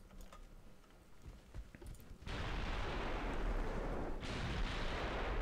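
A 14-inch naval gun fires in the Ultimate Admiral: Dreadnoughts warship game, a loud sustained roaring boom rising abruptly and rolling on with a second surge, alone without talk.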